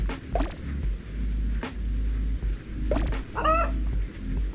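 A chicken in the video game Donut County gives a few short clucks and a brief squawk over a low steady game hum, the sounds sparse and moderately close.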